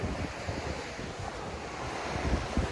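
Sea waves washing onto a sandy beach, a continuous close surf roar with wind buffeting the microphone and no voices.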